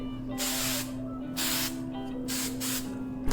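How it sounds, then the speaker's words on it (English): Three bursts of hairspray from an aerosol can, each a bright hissing spray lasting about half a second, over a steady low hum. "I'm gonna spray my hair down with a little bit of hairspray"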